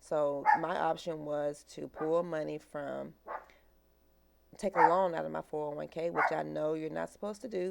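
A household dog barks and yips repeatedly in the background while a person talks steadily over it, with a short quiet gap partway through.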